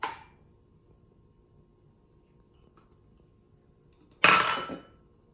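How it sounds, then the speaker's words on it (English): Almond flour and confectioner's sugar being sifted into a bowl for French macarons: a faint rustle at the start, then a short, louder burst of shaking and tapping near the end, with no talk. "we need to sift the almond flour and the confectioner's sugar into a bowl"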